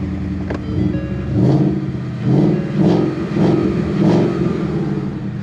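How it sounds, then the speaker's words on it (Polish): Ford Mustang GT with a 5.0 V8, engine still slightly cold, revved in a series of short blips: about four rising throttle bursts over a steady idle rumble, close and loud with no talking. "Przegazujmy sobie trochę ten wóz, mimo że jest trochę chłodny, nie będę go bardzo gazował, ale posłuchajcie tego."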